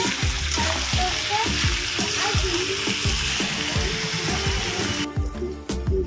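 Peeled lote fish being stirred and mixed in a frying pan for a fish bharta, a steady close sizzle punctuated by rhythmic scraping and knocking strokes of the spatula, briefly quieter near the end.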